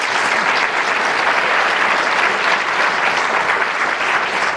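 An audience at a county address gives Dr. Desiato a round of applause, dense, even clapping that fills the room and holds steady throughout.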